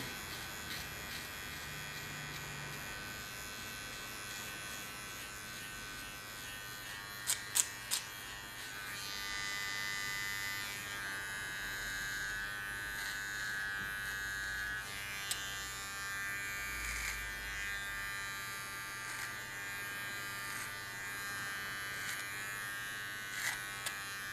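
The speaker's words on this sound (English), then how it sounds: "With a small clipper, I just only clean the contour." Small electric hair clipper cleaning up the contour of a short feminine haircut, a steady faint buzz running throughout with brief pauses and small changes in pitch as it moves along the hairline.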